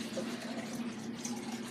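Water runs and splashes into an oil measuring cup being rinsed at a kitchen sink, a quiet steady stream with no talking.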